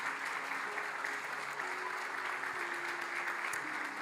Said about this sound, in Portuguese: Você pode aplaudir o Senhor mais uma vez?